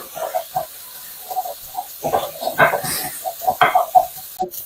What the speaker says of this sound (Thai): แล้วก็ผัดให้เข้ากันค่ะ